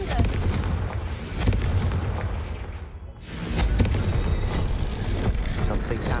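A fiery Confringo spell blast booms in Hogwarts Legacy, loud rumbling explosions that dip briefly to near silence and then surge again, with a voice heard in the mix.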